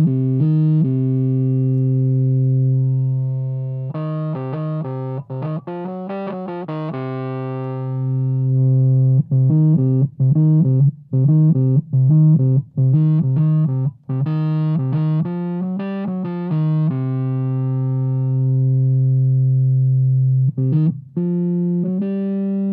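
A Fender Rhodes electric piano driven through a Swollen Pickle fuzz pedal plays thick, deep, crunchy notes, alternating long sustained tones with quick choppy runs, loud and close throughout.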